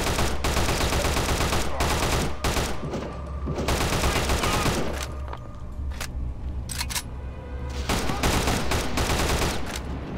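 Loud, close automatic gunfire from a World War II shooter, Return to Castle Wolfenstein, rattles in long sustained bursts, breaking off briefly into scattered single shots and clicks before the firing resumes.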